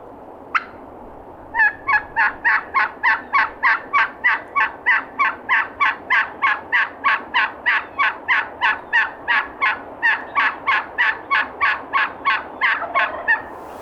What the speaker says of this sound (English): Gobbler still way back there.